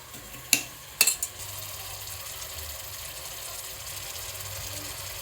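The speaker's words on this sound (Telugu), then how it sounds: "కాళ్ళు ముక్కలు వేసేయాలి. వేసేసి మంచిగా కలుపుకోవాలి." Goat trotter pieces are stirred into cooked onions in a pot for paya soup, with two or three sharp metallic spoon knocks early on over a low, steady simmering hiss.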